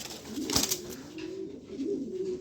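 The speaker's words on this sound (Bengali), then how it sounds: "2022 সালের একটা নর কবুতর।" A young male pigeon hatched in 2022 coos in low, throaty rolling notes, one short phrase then another, close by, with a brief rustle or tap early on.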